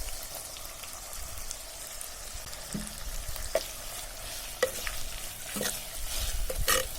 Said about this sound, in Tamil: இப்ப இதுலயே நம்ம எடுத்து வச்சிருக்கிற குழம்பு மிளகாய் பொடி, வரமிளகாய் பொடி, மஞ்சள் பொடி 3மே சேர்த்து ஒரு கிளறி எடுத்துக்கலாம்.